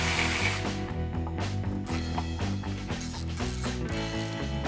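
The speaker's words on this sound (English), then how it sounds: "The fender itself is threaded, so there's not a nut on the inside, but we will need an Allen." An Allen wrench removes a bolt from the threaded fender of a Harley-Davidson motorcycle, giving a steady run of quick, close ratcheting clicks and mechanical turning, without talking.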